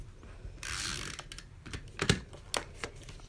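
A snail adhesive tape runner is applied to a card layer, with a short rasping burst and then several small clicks and taps nearby.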